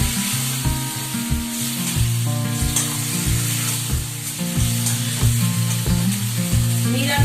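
Masala of ginger, cumin, tomato and kasuri methi sizzles and fries in a pan, a steady loud crackle broken by repeated scraping knocks of a spoon stirring against the pan.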